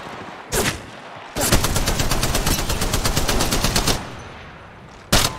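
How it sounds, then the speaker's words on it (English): Automatic weapon fire in the mobile shooter Apex Legends Mobile: a loud sustained burst of rapid shots lasting a few seconds, bracketed by single sharp shots before and after. "Yeah, getting shot at."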